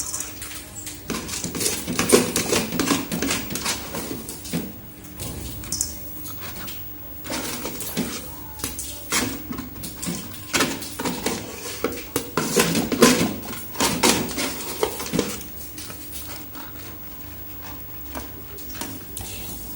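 Metal rice steamer pot being lifted and set back into its base pot on a stove, repeated clanks, scrapes and rattles of metal on metal, close and uneven.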